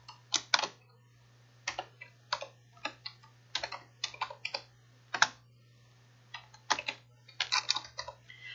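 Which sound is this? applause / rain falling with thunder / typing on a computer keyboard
typing on a computer keyboard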